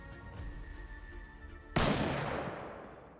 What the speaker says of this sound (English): With a single gunshot, everything finally quiets down.